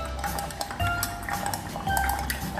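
Food coloring is stirred into water for a hands-on science experiment, giving soft liquid swishing with light clinks and taps of the stirrer against the container, close and continuous.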